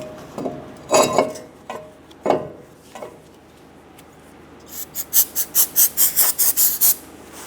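A rag wipes a 2012-2016 Subaru Impreza front brake rotor with parts cleaner: a few scattered scrapes, then a quick run of close, rhythmic rubbing strokes.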